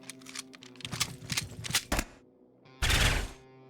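Gunfire in the video game Quasimorph, rapid bursts of sharp clattering shots in quick succession, then a short pause before a final louder, denser burst.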